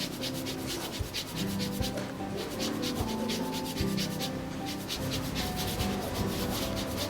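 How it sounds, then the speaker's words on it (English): An orange being zested on a grater for Christmas stuffing balls, a steady run of quick, rhythmic scraping strokes close up that continues without pause and with no speech. "So just zest the orange."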